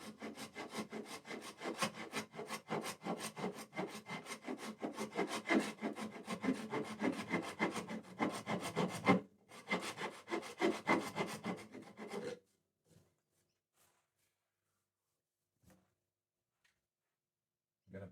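Hand-carving and rounding over a wooden guitar neck with a rasp or file, giving steady rhythmic scraping and rubbing strokes, close and continuous for about twelve seconds with a brief pause, then near silence with a few faint taps.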